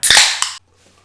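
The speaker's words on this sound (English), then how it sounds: "just after we've cracked open this can of lovely beer." A sharp pop and hiss as a can of beer is cracked open, followed by a second quick click, then near silence.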